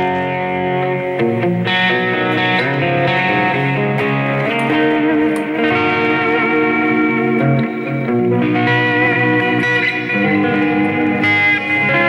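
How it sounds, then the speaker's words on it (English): Electric guitar played through a Boss JS-10 eBand on its Deluxe Crunch setting, modelling a Fender Deluxe Reverb amp, in an 80s style: a steady, sustained stream of crunchy, effected notes with reverb and echo, playing alone without talk. "A Deluxe Crunch will be a Fender Deluxe Reverb."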